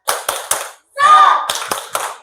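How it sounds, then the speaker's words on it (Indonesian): A primary school class performs a rhythmic spirit clap together: three sharp group claps, a brief burst of chanted voices, then four more crisp claps in a steady beat, close and loud in a classroom. "Biar semangat kita kasih tepuk semangat dulu."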